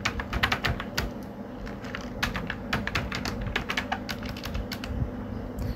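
Rapid, uneven bursts of typing on a computer keyboard while entering song tags, close and clear with dense clattering keystrokes and brief pauses, no talking.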